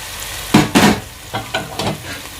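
Several bursts of sizzling and scraping as ginger-garlic paste is stirred into cooked tomatoes in a hot pan for chicken karahi, loud close-up crackle in irregular pulses.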